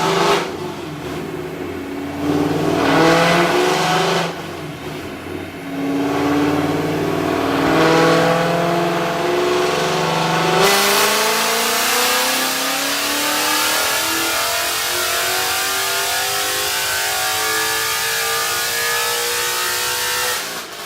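A Ford Mustang GT 5.0 V8 on a dyno revs hard, pitch climbing through long pulls and dropping back, with a brief lull before a second sustained high-rpm run, loud and close with no voices.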